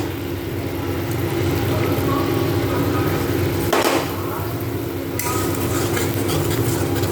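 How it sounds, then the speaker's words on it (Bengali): Whisked sour yogurt and tomato sauce are stirred together in a pan for shahi paneer. A loud, continuous scraping and swishing runs throughout over a steady low hum, with one brief louder scrape partway through. "তারপর সমস্ত একসাথে মিক্সড করে নেব বেশ ভালো করে"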